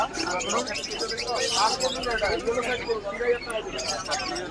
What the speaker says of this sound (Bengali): এখানে দেখতে পাচ্ছ বদ্রি রয়েছে